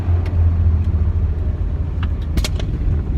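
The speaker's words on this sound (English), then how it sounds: "A little backfire through the exhaust." A 1966 VW idles with a steady low engine rumble, then a sharp popping backfire bursts from the exhaust around two and a half seconds in, loud and close.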